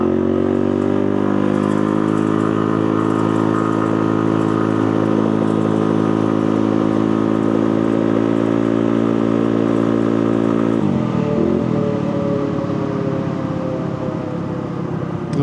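Street mini bike engine with a ported head revving hard while riding, a loud, sustained close buzz holding steady pitch, then dropping off sharply near the end as the throttle eases.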